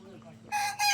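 Broiler chickens on a small farm make a brief, sudden burst of loud calling that starts about halfway through and briefly dips before resuming.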